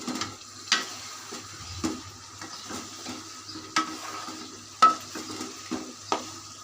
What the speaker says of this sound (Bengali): এই খাসির মাংসটি বিরিয়ানি মশলার সাথে ভালো করে কষিয়ে নিব।